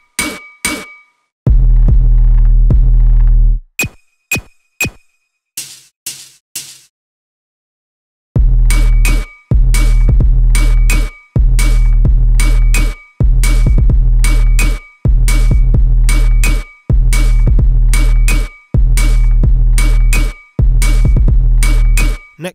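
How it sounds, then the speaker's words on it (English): Baile Funk drum pattern at 130 BPM, heavy booming kicks and sharp clanging percussion in a punchy repeating groove, loud and close, pausing briefly before the full loop returns. "Here is an example of a current 130 BPM Baile Funk drum pattern."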